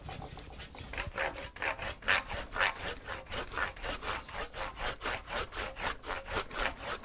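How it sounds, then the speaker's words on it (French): A coarse-toothed material saw cuts through building material in a steady back-and-forth rhythm of about twenty-five rasping strokes, close and loud, with no voices. "Il faut une scie à matériaux avec des dents suffisamment grandes"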